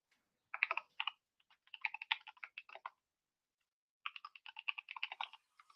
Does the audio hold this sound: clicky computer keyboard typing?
yes